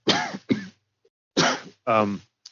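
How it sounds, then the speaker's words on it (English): Four harsh, close coughs come in two pairs, separated by brief silences. "Trying to talk through a cough sucks"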